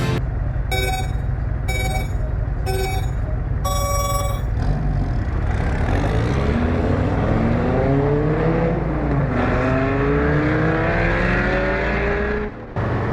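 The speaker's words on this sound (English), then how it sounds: "I bet he's going to take off like a bat out of hell from the light" Dodge Viper accelerating hard from a stoplight, a loud engine roar rising through rapid gear changes and pulling away, with repeated electronic ringing tones over the first few seconds.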